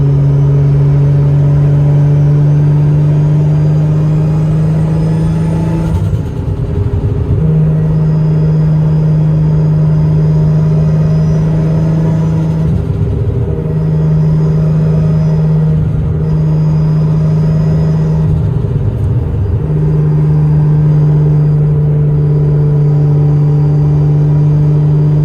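A 600+ bhp Nissan R32 GTR fitted with straight cut gears, its engine droning steadily at a constant hum with a few brief revs and gear whine shifts, loud and close throughout.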